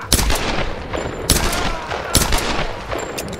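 Rapid gunfire in Tomb Raider, several sharp shots in quick bursts over a constant noisy backdrop.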